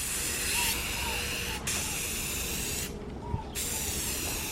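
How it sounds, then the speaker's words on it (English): Aerosol spray paint hisses steadily as car door trim parts for a Honda CR-V are sprayed black, a continuous close hiss broken by two short pauses. "I'm gonna go ahead and get these sprayed black"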